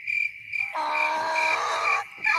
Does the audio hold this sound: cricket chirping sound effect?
yes